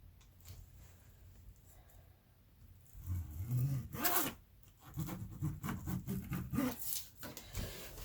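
Pencil scratching and paper rustling while a sewing pattern is traced out for a Little Red Riding Hood costume, starting quiet, then busy close-up strokes and rubs in the second half.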